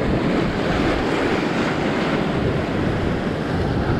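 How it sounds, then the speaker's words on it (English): Ocean waves surge and wash against coastal rocks in a steady, loud, broadband roar, with wind buffeting the microphone throughout and no voices. "You have to watch out for the waves."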